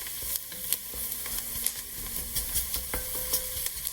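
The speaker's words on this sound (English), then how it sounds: "just keep stirring while it sautés" Onion sizzles and fries in a roux in a pan while a spoon stirs it, with steady close sizzling and frequent scraping strokes against the pot, no talking.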